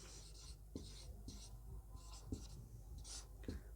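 A pen or pencil writes a word by hand on paper, its soft scratching strokes arriving in short repeated bursts with brief pauses between them, close and with no talk.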